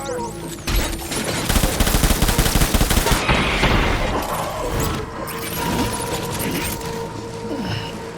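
Loud, rapid gunfire rattling in dense bursts during a Death Stranding firefight, strongest in the first few seconds and then easing into a steadier background clatter with mechanical hums.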